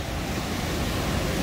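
Ocean surf washing onto a crowded beach at Long Beach, California, in cold water, a steady broadband roar with wind noise across the whole stretch, no voices.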